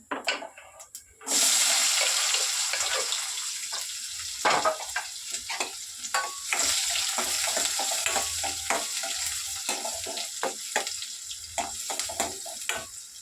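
Onions dropped into hot oil with cumin, fennel seeds and kasuri methi for a palak paneer gravy, a loud burst of sizzling that settles into steady frying crackle with occasional stirring clicks.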